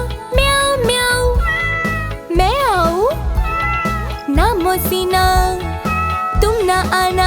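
In a Hindi nursery rhyme, a singing voice imitates a cat with repeated, drawn-out meows that rise and fall over a bright musical backing, loud and close, with sung lines around them.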